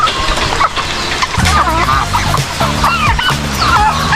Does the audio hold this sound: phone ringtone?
no